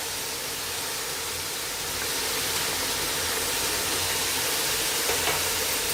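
Onion and beef frying with garlic-ginger paste for kachnar gosht give a steady, loud, hissing sizzle that holds evenly throughout with no break, close to the pan.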